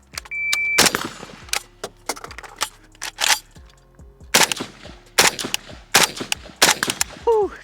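Sharp gunshots from a Pioneer Arms 556 Sporter AK rifle, several loud close cracks spread irregularly across the stretch, with metallic clinks and handling noise between the shots.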